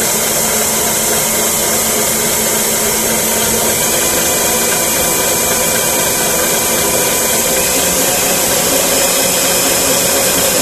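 A stand mixer runs steadily, creaming cherry cookie dough with a loud, constant whirring drone that holds without a break, close by and with no voices.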